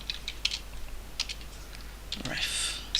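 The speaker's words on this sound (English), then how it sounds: "I'm just typing them in" Keys clatter on a computer keyboard in quick, irregular bursts of clicks, close and moderately quiet, while a voice speaks faintly in the background.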